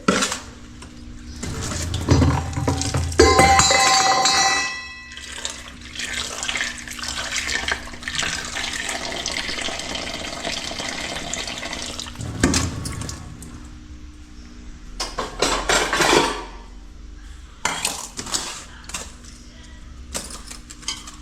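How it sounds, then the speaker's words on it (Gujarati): Mangoes being washed under a running tap, with a steady stream of splashing water, intermittent handling clatter and a louder burst of rinsing near the start, no talk. "બધાની કેરી મસ્ત પેલા ધોઈ કાઢવી પડે."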